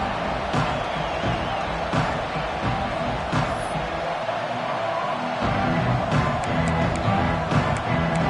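A packed stadium crowd at a Nebraska versus Clemson college football game roars continuously and loudly, a dense wall of cheering that swells slightly toward the end with occasional sharp claps and shouts.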